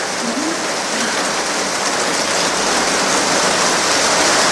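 Rain falling in an Alaskan rainforest, a steady dense hiss of drops on foliage and ground, loud and continuous throughout with no other sounds standing out.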